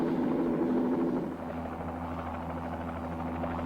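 A helicopter in flight with a steady rotor drone and low buzzing hum, constant and moderately loud throughout, from an old instructional film.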